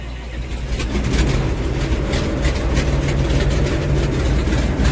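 A truck engine turns over and then runs with a heavy, low, rough idle, loud and close, with rapid rattling pulses throughout.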